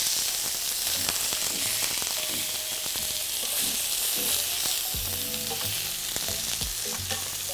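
Jerusalem artichokes fry in a hot pan with a constant bright sizzle and scattered pops and crackles, close and steady throughout with no talking.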